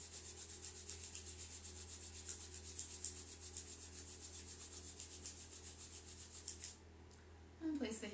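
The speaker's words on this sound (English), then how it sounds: "begin to rub the hands together, create a little bit of heat and friction with the hands" Palms rub briskly together in a steady back-and-forth rhythm during a yoga session, producing a soft, close, continuous swishing friction sound that pauses briefly near the end.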